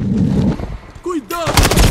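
Gunfire in Call of Duty: Modern Warfare 3, loud rapid shots and bursts across the full two seconds, with a brief lull in the middle and voices talking over the shooting.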